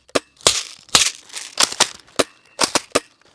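Airsoft shotgun firing into ballistic gel, a series of about ten sharp, loud cracking shots in irregular bursts, some paired closely together, with near silence between them.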